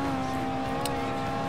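A Ferrari F50 engine in Forza Horizon holds a steady, even drone at constant pitch, close and loud, with a brief hissing burst near the middle.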